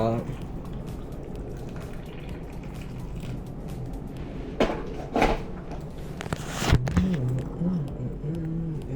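Tea bubbles at a low, steady boil on the stove, a soft rumbling simmer with a few clinks of a pot or lid, while a voice speaks over it.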